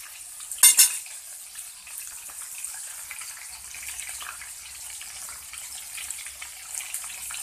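Breaded liver frying in hot oil, a close, steady hiss and crackle with a sharp burst of sizzling near the start as pieces go into the pan, plus light clinks of utensils.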